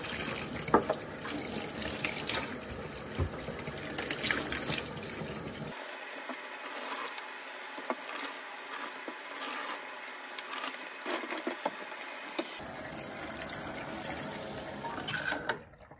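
Tap water runs steadily into a kitchen sink while freshly picked green beans are rinsed and cleaned, with the flow dropping lower in the middle before picking back up, plus light clatter of handling.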